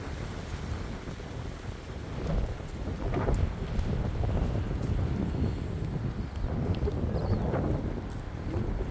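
Steady, roaring wind gusting through trees, a broad rushing noise that swells and eases over several seconds, with no voices.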